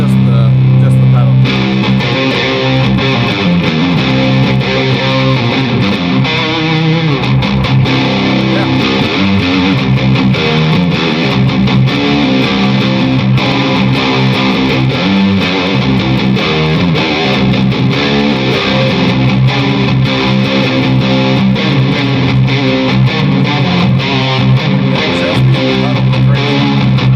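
An electric guitar played through a Keeley Noble Screamer overdrive pedal with the drive turned fully up, straight into an amp with a touch of reverb, giving loud, continuous distorted riffing close up.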